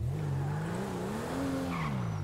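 A stolen car pulling away in the video game GTA 5, engine pitch climbing and wavering through the gears with tire squeal, loud and close for a couple of seconds.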